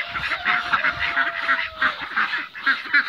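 Muscovy duck calling repeatedly in a steady, close run of hoarse honking notes, with no talk over it.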